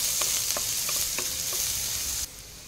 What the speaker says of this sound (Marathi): आता यातच आपल्याला एक छोटा कांदा बारीक कापून घालायचा आहे, तो पण फ्राय करून घ्यायचा आहे